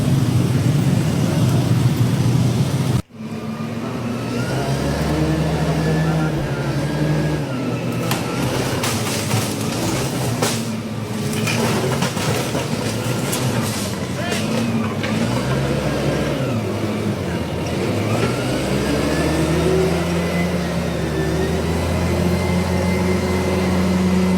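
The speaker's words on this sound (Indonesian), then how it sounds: "Macet sementara tuh ini guys, diatur dulu." Congested road traffic during a large street protest in Subang, West Java: continuous engine drone and revving from idling and creeping vehicles, loud and close, with a brief gap near the start.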